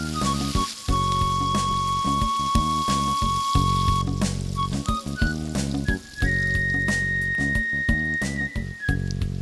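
Chopped onion and slit green chilies fry in oil left from frying fish, a steady sizzle running beneath louder tonal background music.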